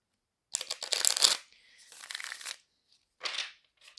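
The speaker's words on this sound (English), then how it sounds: "I'm going to start by shuffling the cards." Tarot cards are shuffled by hand at close range, a few crisp riffling bursts with short pauses between them, separated by brief silences and heard without any talk.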